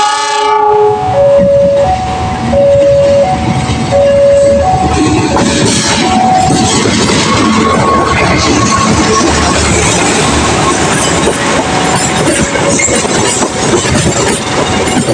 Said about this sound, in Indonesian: Kalau lokal Bandung Raya masuk di jalur 2 Stasiun Cicalengka dengan lokomotif CC206.